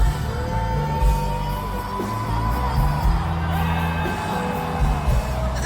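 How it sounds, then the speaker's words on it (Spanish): A large crowd at a concert in Mexico yells, whoops and cheers in a continuous loud roar that runs through the whole stretch, mixed with faint music. "gente grita, se vuelven locos"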